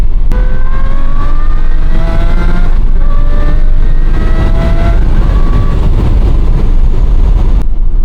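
An Aston Martin V12 Vantage engine roars loudly as it accelerates, its exhaust note climbing through repeated rising pitches, very close and overpowering.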